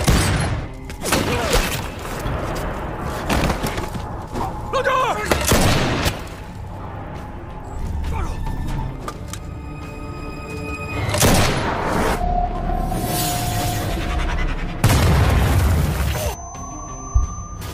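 Long-range sniper gunfire in an action film comes as several loud, sharp shots and booms scattered across the scene. Between them sits a tense sustained soundtrack with high tones and rumbling.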